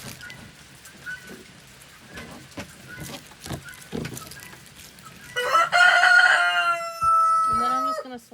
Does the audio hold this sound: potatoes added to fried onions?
no